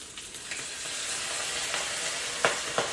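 Fish shallow frying in a pan at home, a steady close hiss of sizzling oil with a few brief crackles and pops near the end.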